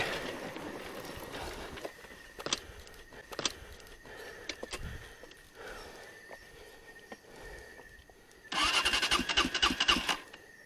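An engine cranks and fires up near the end, with a loud surge of rough running. Scattered clicks and rattles come before it over a steady background.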